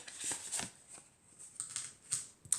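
An oracle card slides out of a deck in a handful of soft, crisp papery flicks and rustles, close and quiet.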